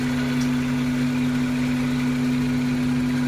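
A Honda Hyper 16-valve fuel-injected engine idles with a steady, loud hum and a strong low drone, running close by and alone, an engine noted as having its rpm rise and fall.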